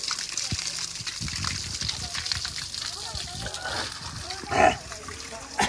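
Cold spring water splashing and trickling at an uphill spot near Lwang, with a short louder gush near the end, heard under people talking close by.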